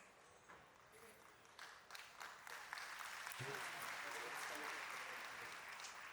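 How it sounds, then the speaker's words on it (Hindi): Sustained audience applause swells at a yoga day celebration event, growing louder and denser across the crowd and holding steady, with some talk mixed in. "बोलने के पहले ताली बजा दी आपने"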